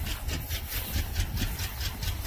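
A 1970 Ford Mustang Mach 1 engine idling roughly, a steady low rumble with an uneven, pulsing beat at close range and no voices.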